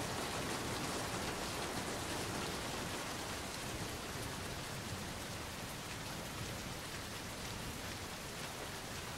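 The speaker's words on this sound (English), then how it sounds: "I'm starting to freeze with all this goddamn rain." Heavy rain in The Taxidermist game, a dense, constant roaring hiss of downpour with no breaks.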